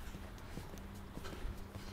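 Hooves of a ridden horse clip-clop in a steady, moderately close walking rhythm over a low background rumble, with no one talking.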